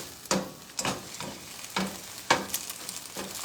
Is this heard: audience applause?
no